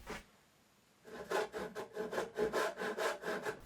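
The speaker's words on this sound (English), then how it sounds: "the tenon saw did the job just fine and didn't scratch the surface" A tenon saw cutting spline slots in a mitered wooden box, a quiet pause then a run of regular rasping back-and-forth strokes, close and alone.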